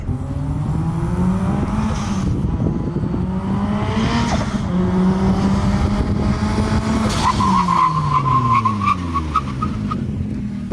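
A Mitsubishi Evo X fitted with custom brakes runs a hard braking test: the engine revs loudly, then the pitch drops and the tires let out a short high squeal as the car skids to a stop.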